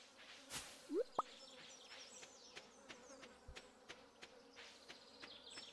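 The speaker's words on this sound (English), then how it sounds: "I can hear the flies, and they're so annoying. I hate buzzing insects." Flies buzz faintly in the Stardew Valley video game, a thin drifting hum with scattered soft clicks and ticks over a quiet background.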